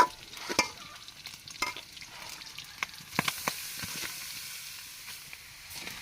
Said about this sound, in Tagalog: Hinalo-halo ko lang po para mag-mix yung mga rekado.